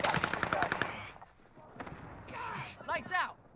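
A rapid burst of automatic gunfire from hip firing in Warzone on Rebirth Island, played on PS5, rattles at the start, followed by game voice lines and players talking.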